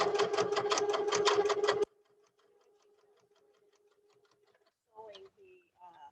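A sewing machine rapidly stitching through a fabric casing in a steady mechanical rhythm for about two seconds, then stopping, followed by a faint hum and brief speech.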